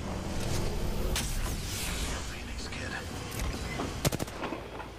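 Rapid bursts of Apex Legends gunfire crack over a steady background, with a sharp cluster of shots near the end while people talk underneath.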